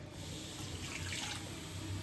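Hot water poured from a vessel into a pot of mutton curry with potatoes, a continuous soft splashing stream, faint and close, with no talk over it.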